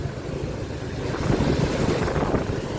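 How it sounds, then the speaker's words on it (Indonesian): Water in the CBL river at Wanasari village rushes along in a steady, broad, low roar, a continuous outdoor wash with some wind buffeting the microphone. "Air mengalir lancar ya."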